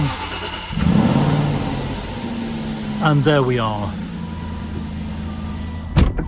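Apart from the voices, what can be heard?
Aston Martin V8 engine starting and rumbling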